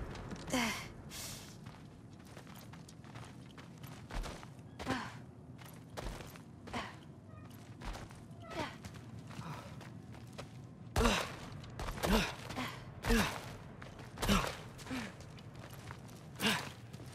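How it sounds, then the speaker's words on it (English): In the God of War Ragnarok video game, heavy breathing comes from the back of a dark cell: slow, irregular sighs and gasps with occasional thuds and footsteps, quiet and spaced out. "I can hear something breathing near the back of the cell"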